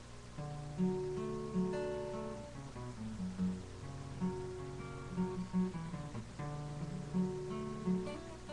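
An acoustic guitar plays a quiet, repeating riff in plucked notes with a steady rhythm, faint and close, with no voices.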